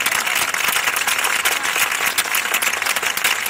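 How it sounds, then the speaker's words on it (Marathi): Devotees clapping loudly and continuously at a Bhagavat katha reading in a temple, a dense, steady wash of applause from a large crowd that fills the whole moment, with no talking over it. "भक्तांनो, जोरदार टाळ्या वाजवा"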